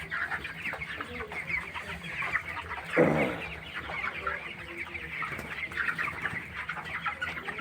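A flock of 21-day-old broiler chickens on a poultry farm with fresh rice-husk litter clucks and chatters steadily, with one louder squawk partway through.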